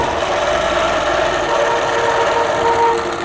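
A sewing machine quilts an arc from corner to corner across a quilt block, a steady, fairly loud mechanical hum running unbroken throughout with no speech.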